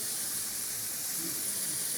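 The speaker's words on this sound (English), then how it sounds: "Hear that sizzle?" A steady, even hiss of a Cajun roux sizzling in a pan, soft and continuous with no talking.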